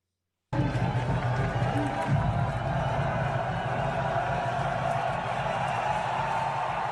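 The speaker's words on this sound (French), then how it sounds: "Il y a foule." A dense crowd gathered at a Mélenchon political rally for Bally Bagayoko's arrival: a loud, continuous roar of many voices and murmuring that starts abruptly and holds steady, with scattered shouts and some nearby talk.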